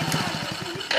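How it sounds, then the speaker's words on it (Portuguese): A motorcycle engine sputters to life and chugs with a quick, regular pulsing beat, fairly quiet, before a brief burst of louder noise near the end. "Tem que ligar a moto."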